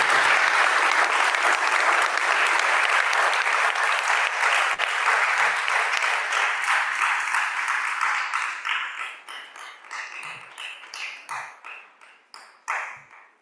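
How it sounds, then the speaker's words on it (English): A conference audience gives a panel on G20 and G7 debt and development a long round of applause. The clapping is full and sustained at first, then thins into scattered, fading claps. "Please join me in giving them a round of applause"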